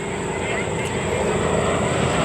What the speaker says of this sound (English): Listen to that engine. He's got that all 90 horsepower really wound up.